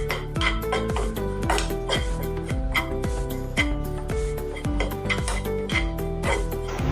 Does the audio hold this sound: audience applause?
no